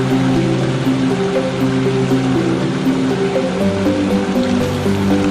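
Water pouring from many spouts at the Jolotundo bathing site, a dense continuous splashing rush with a steady loud roar and no pauses.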